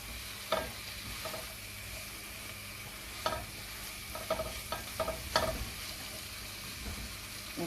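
Chicken sautéing gently in a pan over moderate heat for fried rice: a soft, steady sizzle broken by occasional utensil scrapes and clicks of stirring, close by and fairly quiet.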